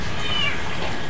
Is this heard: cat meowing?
yes